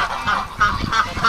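A domestic goose or duck kept with hatching eggs honks loudly and repeatedly in a short series of close, nasal calls on a rainy day.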